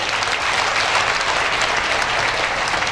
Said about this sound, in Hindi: मंजूर है तो ताली बजाएं।